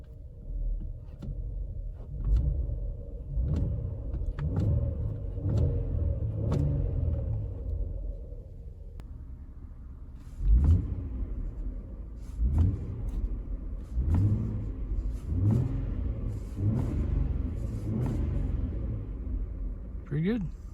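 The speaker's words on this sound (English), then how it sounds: "that's a really rough idle" Car engine idling roughly, a low uneven rumble with irregular stumbles and surges, while someone talks over it.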